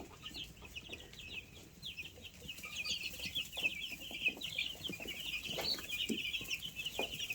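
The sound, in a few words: Freedom Ranger meat chickens clucking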